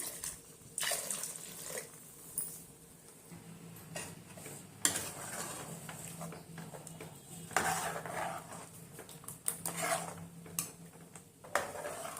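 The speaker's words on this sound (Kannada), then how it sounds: "ನೀರು ಸೇರಿಸ್ತಾ ಇದ್ದೀನಿ" Water poured into a cooking pot of chickpea masala curry, a soft, steady splashing trickle with faint clinks of the pot, fairly quiet and without speech.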